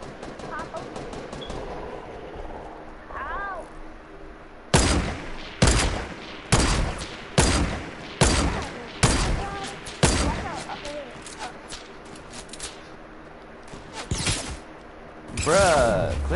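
Gunfire in the Fortnite video game: a rapid series of loud, sharp shots in evenly spaced bursts, followed by a final heavier volley, with quieter background game noise between them.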